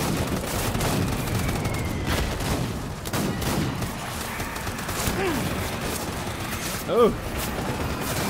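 Continuous gunfire and booming blasts in the video game Death Stranding, a dense, rumbling fusillade running throughout, with a man briefly exclaiming near the end.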